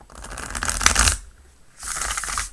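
Tarot cards shuffled in arching bridge shuffles: two crisp, fluttering riffles with a short pause between them, close and clear with no talk.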